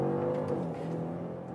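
A Genesis G90 V6 engine revs and pulls steadily under acceleration, a continuous throaty hum that holds strong and close for the whole stretch.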